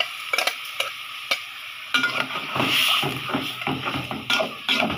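Spices fry in a washed cooking pot while being stirred, a close sizzle broken by sharp scraping and clinking strokes of the spoon against the metal, in an uneven rhythm.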